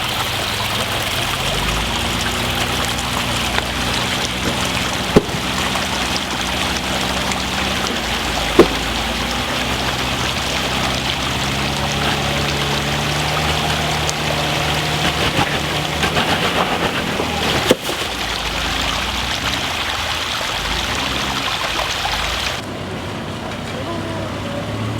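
Steady rain falls outdoors at a farmer's market in Woodstock, Vermont, a continuous broadband hiss with a few sharp knocks, while voices murmur faintly underneath; the wash drops noticeably quieter near the end.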